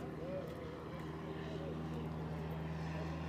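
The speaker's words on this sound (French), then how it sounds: "C'était l'avion qui servait à tous les généraux pour aller d'un point à un autre" A vintage propeller airplane, the kind once used to carry generals and the first to land on a beach during the Normandy landings, drones faintly overhead at an outdoor Allied camp event in Caudry, a steady hum with soft background voices.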